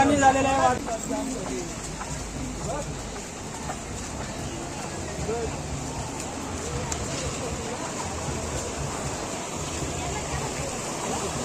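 Floodwater from torrential rain rushes through a village in a steady, loud broadband roar that continues for the whole stretch, with a brief louder burst at the start.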